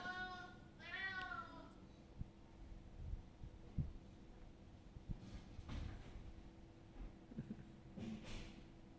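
An adult cat gives one clear meow near the start, then soft knocks and bumps follow in a quiet indoor room.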